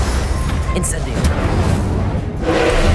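A fire spell cast in the wizarding video game Hogwarts Legacy: a dense, rumbling roar of magical flame that runs loud and steady through the whole stretch, swelling slightly near the end amid busy combat noise.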